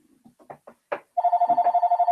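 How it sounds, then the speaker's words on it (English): A mobile phone rings with a steady pulsing electronic tone, loud and close, cutting in after a few quiet speech sounds and mouth noises. "And that's my phone."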